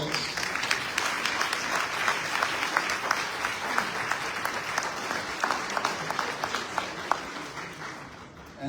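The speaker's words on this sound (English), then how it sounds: "Please stand and let us give them a round of applause." A graduation ceremony crowd at the Foreign Service Institute gives a round of applause, a sustained wash of many hands clapping at an even level for several seconds, tapering slightly at the close.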